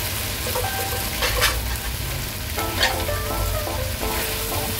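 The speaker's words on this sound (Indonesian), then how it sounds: "Ditumis-tumis sampai enggak ada airnya, enggak ada kuahnya." Hong Kong style spare ribs stir-fry in a hot pan with a steady, loud sizzle close up, and scattered clinks and scrapes of a spatula stirring through it.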